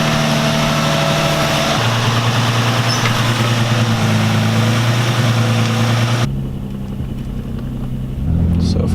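An Infiniti G35 with a newly replaced drive belt idles steadily up close, a loud, even engine hum that shifts slightly in tone partway through.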